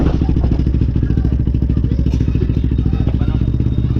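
A new motorcycle engine that won't start churns with a loud, close, rapid chugging pulse that stays steady throughout, with voices mixed in.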